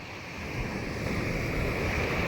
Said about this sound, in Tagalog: Malakas kasi yung alon dito.